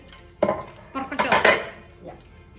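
Pots and utensils clatter as a pressure cooker of ghee rice is opened in a kitchen, a few loud close metallic knocks and scrapes in quick succession.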